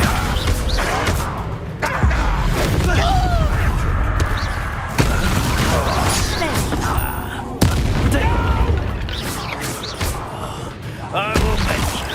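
Confringo spell blasts and explosions in a Hogwarts Legacy duel: loud repeated booming impacts with sharp cracks, separated by brief gaps, under shouted character voices and gasps.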